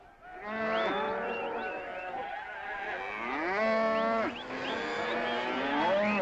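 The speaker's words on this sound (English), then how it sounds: "You got cattle in the back, boss." Cattle mooing in the back of a truck, a series of long, loud, close bellows one after another with rising and falling pitch, almost no other sound.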